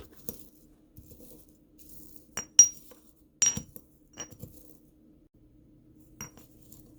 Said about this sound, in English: Trying to grind it all together.